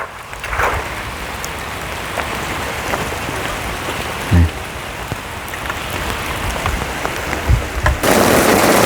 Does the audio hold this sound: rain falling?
yes